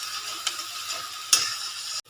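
Onions sizzle quietly in a little oil for an Assamese-style goat meat curry, with a few light stirring scrapes. The sound is faint and close and ends abruptly.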